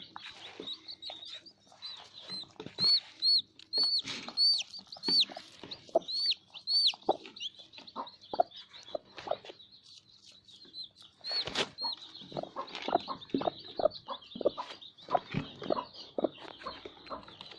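A broody hen clucks in short, irregular bursts close by, pecking, while high peeps from newly hatched chicks chirp repeatedly in the background.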